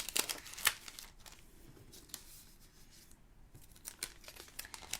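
A small plastic bag handled at a card-making table, with sharp crinkles and rustles in short bursts, near but fairly faint, with no talk.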